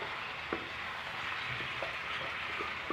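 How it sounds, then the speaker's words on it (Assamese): Steady frying sizzle from chicken biryani in a pot, with a few faint scraping knocks as it is stirred, close and even throughout. "ধুনীয়াকৈ লৰাই দিয়া।"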